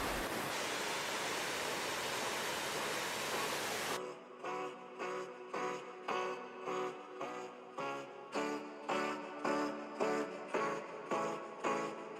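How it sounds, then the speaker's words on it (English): Waterfall on the Ölfusá River, tumbling down a three-step staircase into a 115-foot-deep canyon, gives a steady, full roar for about four seconds, then music takes over. "The waterfalls begin just after the Ölfusá River makes a perpendicular turn and then cascades down a 3-step staircase into a canyon that is 115 feet deep."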